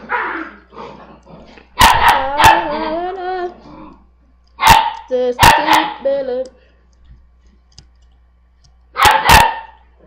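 A pet dog barks in short sharp bursts, loud and close, in several clusters spread across the stretch, with a voice talking and shouting in between the barks.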